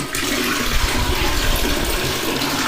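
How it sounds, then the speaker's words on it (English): A bucket of water is dumped into a toilet bowl: a loud, continuous rushing and gurgling pour that lasts several seconds, close up, with no speech. "So I have a bucket of water."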